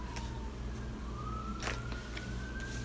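A faint siren wails in the distance, its slow rising and falling tone carrying over a steady low hum.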